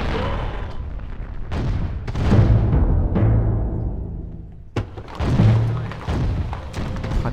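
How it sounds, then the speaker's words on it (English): Artillery barrages in the Rise of Nations real-time strategy game, heavy booming thuds landing in several bursts over a continuous low rumble of battle, loud and close, with no one talking. "let my artillery do some work"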